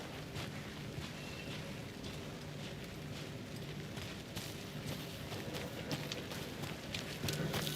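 Continuous video game rain pouring down with a dense hiss, scattered heavier drips and a low rumble underneath, no voices, from Alan Wake 2.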